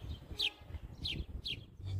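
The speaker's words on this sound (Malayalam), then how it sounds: "ഇപ്പോൾ ഇവിടെ ഒരു കിളിയുണ്ടേ, അതാണെങ്കിൽ കലകലാന്ന് വെച്ച് കേട്ടോ." A bird in a home kitchen garden chirps three bright, distinct calls at an even pace against a quiet background.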